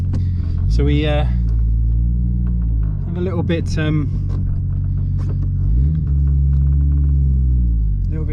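A car's quieter, less droney exhaust rumbles steadily at close range while driving, a low engine drone running under occasional talk throughout.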